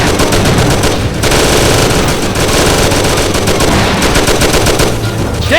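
Loud, dense automatic gunfire rattles through a mob shootout cutscene in the Mafia video game, with rapid bursts running almost without pause and brief gaps between volleys.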